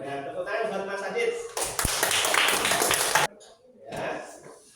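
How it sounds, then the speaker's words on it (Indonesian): Students in a classroom clap together for a classmate: a short burst of dense, close clapping lasting under two seconds, framed by a teacher speaking before and after. "tepuk tangan buat Mas Adit"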